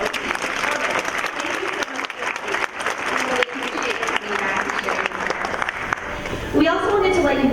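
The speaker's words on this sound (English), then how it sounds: "So please give her a round of applause as well as our candidates for that beautiful opening" Audience applause follows an opening performance at a Cherry Blossom Queen program, a broad, steady wash of clapping from a sizable crowd that holds throughout, with a voice speaking near the end.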